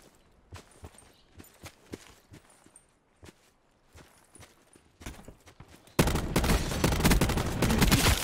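SG-12 shotgun in Call of Duty Blackout: scattered footsteps and small impacts, then a loud, dense burst of gunfire that persists to the end.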